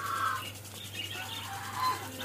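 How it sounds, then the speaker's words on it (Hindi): Parrots calling at a rural farm with pigeons, peacocks and chickens, giving a few short, bright chirping calls that rise near the start and end over steady background noise. "तोते भी हैं"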